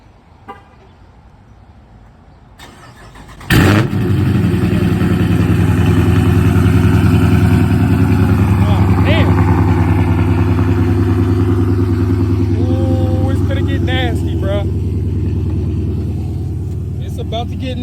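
A Chrysler 300 with a catless exhaust starts from cold: a quiet lead-in, then a sudden loud crank and catch, settling into a deep, heavy, rumbling idle that holds steady, with people talking faintly over it.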